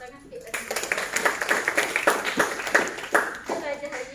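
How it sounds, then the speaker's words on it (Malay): Classroom audience clapping hands during a microteaching lesson, a short burst of quick overlapping claps at moderate volume, with a teacher's voice speaking over it. "Tepuk tangan sikit kat sini."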